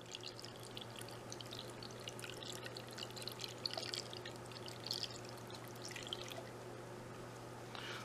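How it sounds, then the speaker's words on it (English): Water pours into a tumbler holding steel media, a soft continuous trickle and splash that stays faint over a low steady hum, with no voices. "Let's add enough water to get it all pretty well covered."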